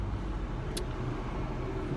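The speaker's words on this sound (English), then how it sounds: "I'm sitting here in bumper-to-bumper traffic" Steady low road rumble from bumper-to-bumper traffic heard from inside a vehicle, continuous and moderately loud, with one brief higher hiss partway through and no talking.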